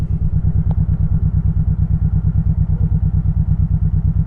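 A 2001 Honda Shadow Sabre 1100 V-twin motorcycle idles close by with a steady, even low throb of regular pulses and no one talking.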